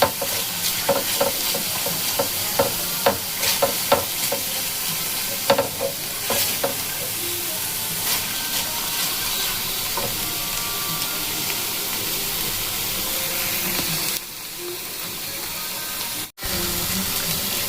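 Spices being sautéed and stirred in a pan for a paneer masala curry, with a steady sizzle and repeated scraping strokes of the spoon through the first half, continuing fairly loud before a brief drop near the end.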